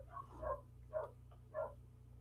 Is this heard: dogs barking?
yes